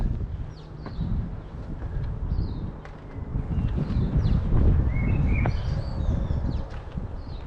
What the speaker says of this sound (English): the sound of the birds makes such a beautiful backdrop